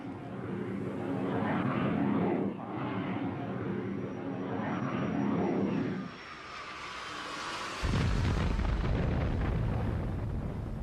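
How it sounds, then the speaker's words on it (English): Israeli warplanes attack a ship, their engines roaring in repeated swelling passes that build and fade, followed by a loud explosive blast and a rumbling crackle of fire and detonations that continues to the end, with no speech. "Israeli planes mounted an attack."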